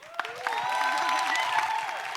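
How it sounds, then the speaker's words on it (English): Applause from a live podcast audience at a Killer Mike event, a steady mid-level patter of many hands sustained throughout, with faint tonal sounds and a few louder claps rising above the crowd. "Give him a round of applause."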